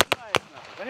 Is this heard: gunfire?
yes